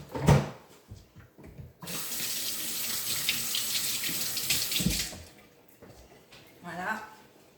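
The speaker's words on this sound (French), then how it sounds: "je vais me laver les mains entre deux." Tap water runs steadily into a kitchen sink while hands are washed under it, a loud continuous splashing rush lasting several seconds, with brief speech before it starts and after it stops.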